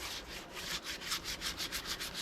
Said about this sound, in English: So I got to do a little bit of sanding